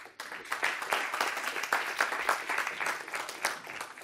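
Applause from the audience at the UEFA Europa League semi-final draw as the first UEFA Vice President, Ángel María Villar Llona, is welcomed on stage; steady, dense clapping from a sizeable crowd throughout, loud and continuous.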